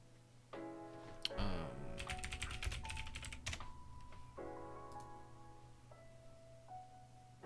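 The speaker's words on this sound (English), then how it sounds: "I keep wasting time in typing." Clicky keystrokes on a computer keyboard, quick irregular taps in short runs and single presses at close range, over faint background tones and beeps.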